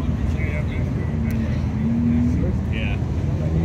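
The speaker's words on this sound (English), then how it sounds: "GT3 is what's making those noise over there, that white one" A Porsche GT3's engine rumbles steadily and continuously at a cars and coffee meet in Malibu, heard from some distance under nearby people talking throughout.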